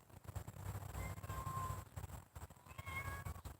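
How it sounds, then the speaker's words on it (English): A kitten meows repeatedly in thin, high cries, faint and somewhat distant, over a steady outdoor background hum. "You're just gonna stand there and meow?"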